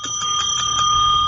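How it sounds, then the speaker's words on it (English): A bell rings in a radio studio with a steady, bright, sustained metallic tone, loud and alone with no talking. "Inappropriate bell."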